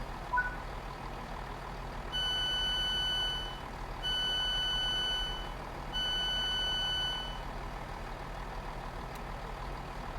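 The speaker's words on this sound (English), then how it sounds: "Doors opening." Three evenly spaced electronic beep tones play on a Class 166 diesel train on the Riviera Line in Train Sim World 6. Each sustained chiming tone lasts about a second and a half over a steady low engine hum, with no talking.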